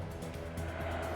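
Trucks in a convoy hauling critical supplies across thinning Arctic ice road, a continuous rumbling engine and tyre drone with a passing-vehicle swell, fairly loud and steady.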